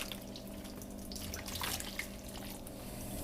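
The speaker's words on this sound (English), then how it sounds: "Now we want to add a couple of cups of ice cold water." Ice-cold water pours steadily into a venison snack stick meat mix with cure and seasoning, a continuous close hiss and splash that lasts throughout without speech.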